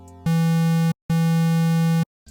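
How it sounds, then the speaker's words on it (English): A square-wave synth tone from the FL Studio 3X Oscillator plugin sounds as two steady, loud, buzzy sustained notes, the first shorter, separated by a brief silence. "First thing, I'm using 3X oscillator."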